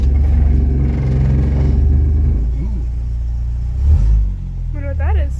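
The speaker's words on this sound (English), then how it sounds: "I think that's the exhaust." A 1988 Jeep YJ that sat abandoned for years rumbles loudly through its exhaust, with a deep, steady engine note that swells briefly into a rev, while a voice speaks faintly over it.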